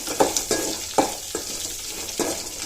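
Onions sizzle steadily in hot oil in a pan for curry leaves rice, with periodic scraping stir strokes about every half second over a constant hiss, close and fairly quiet, no talking.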